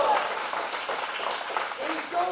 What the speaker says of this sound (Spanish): Fuerte el aplauso al que vive.